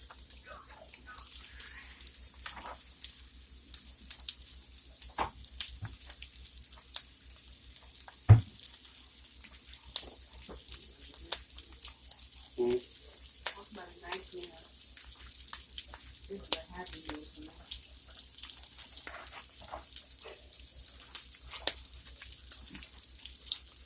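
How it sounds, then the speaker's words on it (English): Garlic trout frying in a pan, a faint steady sizzle with scattered pops and soft clicks, quiet and close with a low hum beneath. "Now I'm cooking my trout for about 5 minutes on each side."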